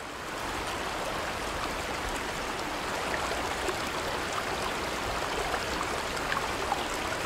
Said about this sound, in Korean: 강물 소리 때문에 작은 소리는 안전했습니다.